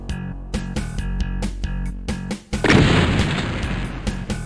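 Gunfire in the 1993 video game Ultimate Doom, likely from the chain gun: a rapid run of sharp repeated shots, followed by a loud booming blast that rumbles on to the end.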